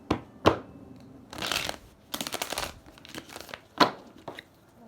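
Tarot cards are shuffled by hand in a close, crisp series of riffles and slaps, with sharp snaps between short rustling bursts and no talking.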